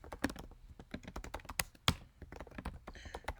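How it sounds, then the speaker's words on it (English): Rapid typing on a computer keyboard while adding a job to a CI configuration file, with close, uneven clusters of sharp key clicks and occasional heavier thunks, no voices. "I just choose to type in to practice my typing skills."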